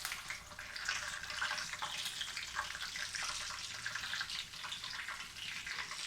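Fennel seeds and dried red chillies frying in hot oil give a steady, close crackling sizzle that runs through the whole moment without pause.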